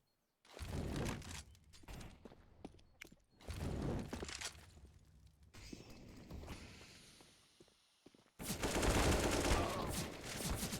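Gunfire in CS:GO during a PGL Major 2022 match, heard as rapid bursts of shots separated by short pauses, fairly quiet, with a final sustained volley near the end.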